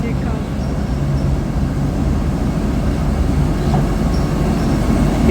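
A train rumbles steadily across the bridge on the River Kwai carrying supplies, a continuous low rolling drone of wheels and carriages close by, with faint voices beneath.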